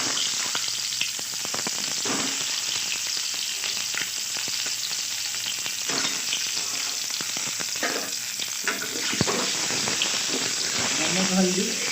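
An egg frying in hot oil in a pan for egg curry gives a continuous loud sizzle with crackling spatter. Occasional stirring and scraping sound over it, and a person speaks intermittently.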